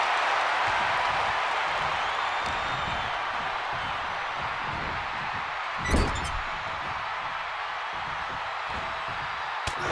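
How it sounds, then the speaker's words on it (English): A large arena crowd applauds and cheers steadily throughout a WWE 2K25 wrestling match, a dense, continuous wash of clapping with one brief sharper thump partway through. "The WWE Universe is showing their appreciation for the action they're seeing."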